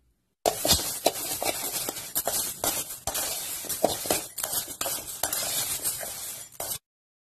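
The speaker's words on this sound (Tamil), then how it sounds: "கடாயில் இட்லி அரிசி சேர்த்துக்கலாம். அரிசி பொரிஞ்சதும் வேற பாத்திரத்தில் மாத்திக்கலாம்." Idli rice roasts dry in a kadai for homemade sambar powder, stirred steadily with a spoon that scrapes and clatters against the metal. Grains rustle and crackle in a busy, close, continuous texture with sharp knocks throughout.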